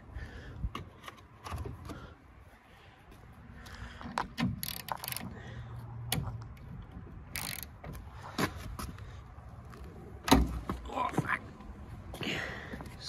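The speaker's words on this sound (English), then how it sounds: "Gonna try to see if we can't get these bolts off." Rusted bolts sprayed with penetrating oil being worked loose with a wrench, giving irregular close metallic ratcheting clicks and clanks with a few sharper knocks, along with low muttered talk.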